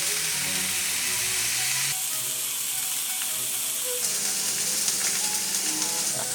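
Meat fries in a hot pan with a steady, dense sizzle and crackle. The hiss continues without a break, with small pops and a couple of shifts in intensity, close up and with no talking.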